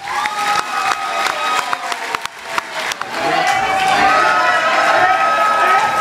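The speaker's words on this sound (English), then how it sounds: "It's a huge applause by the camper." A crowd at a Muay Thai world championship fight cheers and applauds, a dense roar of voices and clapping that swells louder and steadier in the second half, with sharp percussive hits scattered through the first part.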